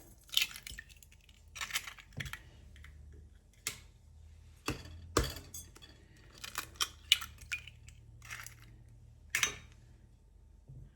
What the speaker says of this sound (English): we're going to mix 2 large eggs. Just pop them in a big bowl